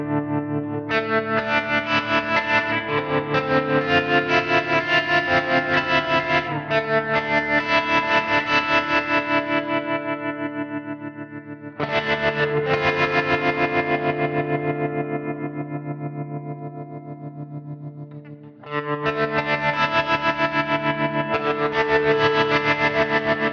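An electric guitar played through Fractal Audio FM9 effect models rings out in sustained, heavily processed chords with echo and chorus, loud and steady, in three long phrases broken by short pauses, with no talking.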